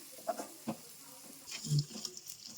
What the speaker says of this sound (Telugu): రొయ్యలు రెండు నిమిషాలు వేగాలండి వేగినాక ఇప్పుడు వంకాయలు వేసుకుందాం మొత్తం కలుపుకొని